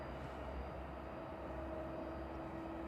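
A Learjet arriving at East Midlands Airport in the evening, its jet engine a steady distant rumble and whine held at an even level throughout.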